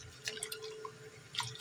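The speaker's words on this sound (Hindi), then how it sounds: "इस तरह से खुले पानी में हम धोएंगे ताकि इनकी बिल्कुल मिट्टी रेत वगैरह निकल जाए" Chopped turnips and their leaves are rinsed in open water, giving a few faint, brief drips and soft splashes over a quiet background.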